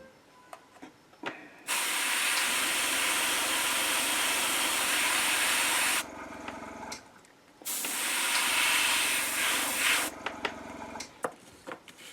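An airbrush sprays paint onto a miniature model's armor in two long, steady hissing bursts, close and fairly loud, separated by a brief pause, with quiet clicks and handling noise around them.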